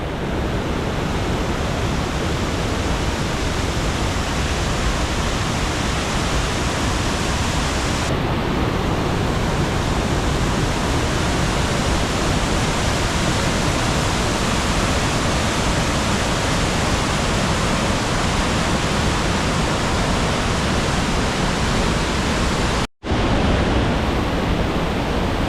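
A swollen waterfall in Snowdonia after Storm Claudia roars as a dense, loud, unbroken rush of water, steady throughout with a brief dropout near the end.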